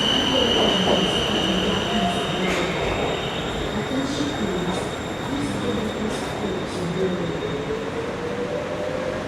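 A Bangkok MRT Blue Line metro train sits at a busy underground platform, with a loud, continuous rumble, a high whine, squealing wheels and brief hissing bursts as it stands and moves close by, with no voices clearly heard.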